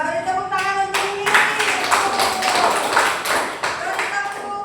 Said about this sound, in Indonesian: beri tepuk tangan untuk ini